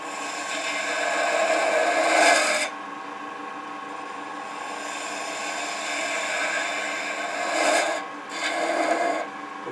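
A steady raspy whir of wood turning on a lathe as a tool cuts a taper into a wooden coffee scoop, rising and falling in pitch and intensity with each pass.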